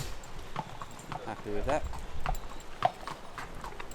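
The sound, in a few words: thoroughbred horse hooves clip-clopping during shoeing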